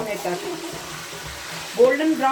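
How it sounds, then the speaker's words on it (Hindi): Chicken frying in oil with desi ghee, a soft continuous sizzle, fairly quiet, with a voice speaking briefly at the start and again near the end. "होने तक हमने इसको इसी ऑयल में फ्राई करना है खूब अच्छे से"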